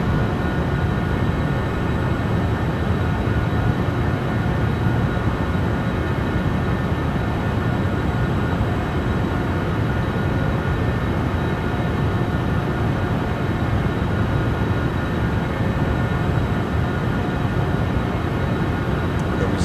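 A Citation Sovereign+ business jet in Microsoft Flight Simulator 2024 drones steadily in flight, a loud, broadband engine roar with a constant whine and no breaks.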